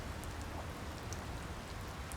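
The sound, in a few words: rain falling in the video game Secret Files 2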